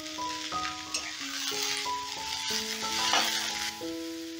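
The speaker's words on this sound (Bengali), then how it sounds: "এবারে আবারও ভালো করে ভেজে নেব।" Chopped vegetables and onion fry in a pan while being stirred, giving a steady sizzle with scraping stir strokes and a background tonal melody throughout, no talking.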